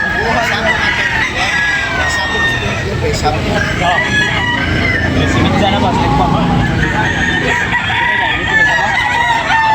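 Roosters crowing and chickens clucking at a busy poultry expo, loud and close, with the hubbub of a crowd talking throughout.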